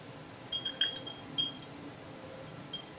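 A glass beaker clinking lightly as silica gel slurry is stirred, a scattering of faint, high, bright ticks spread over a quiet hiss.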